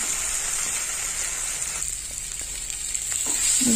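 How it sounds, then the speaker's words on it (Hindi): Onions and chopped tomatoes frying in a pan give off a steady high sizzle and hiss, close and continuous, with faint stirring clicks and scrapes in the latter half. "अब मैं इसमें डालूंगी रफली चॉप किए हुए टमाटोज अब इसको मैं अच्छे से फ्राई करूँगी"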